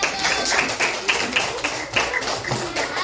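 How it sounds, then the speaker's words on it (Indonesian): A classroom group is applauded, with a dense, steady patter of many hands clapping close by for several seconds and faint voices mixed in. "tepuk tangan untuk kelompok 1"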